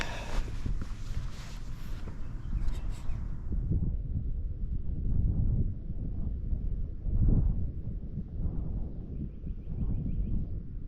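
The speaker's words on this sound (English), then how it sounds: "this wind is just absolutely relentless" Strong, relentless wind buffets the microphone outdoors at a truck campsite, a steady low roar with gusts swelling and easing across the whole stretch, loud and close with no talk.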